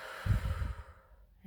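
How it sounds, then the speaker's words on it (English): A slow, deep breath drawn in and let out, soft and close, with a breathy rush over about half a second that fades into quiet. "let's take a deep breath in and out"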